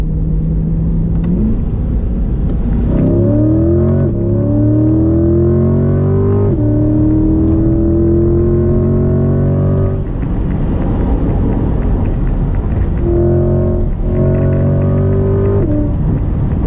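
A 2020 Chevrolet Corvette C8 Stingray Z51 with its V8 accelerating hard, the loud engine note climbing through several gears with short dips at each shift, heard from inside the car without talk.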